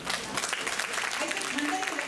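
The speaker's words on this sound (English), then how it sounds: "I think we should give a thundering applause to Principal, sir." Dense, sustained applause from an audience at a school science day event, many hands clapping at once in a continuous wash with a few voices mixed in.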